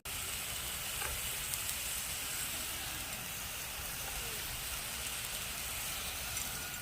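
Onion, garlic, ginger and masala frying in a pan for a potato curry give off a steady, continuous sizzle, close and even throughout with no talking.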